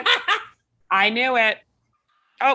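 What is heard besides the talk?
dog barking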